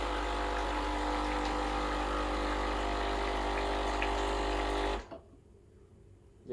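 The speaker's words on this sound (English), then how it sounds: "We'll give you hot water straight from the boiler." A steady, loud rush of hot water from a Breville Barista Express espresso machine boiler, with a low pump-like hum, runs about five seconds, then cuts off abruptly, leaving quiet room tone.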